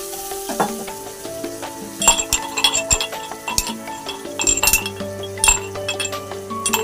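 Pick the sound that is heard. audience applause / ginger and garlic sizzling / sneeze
ginger and garlic sizzling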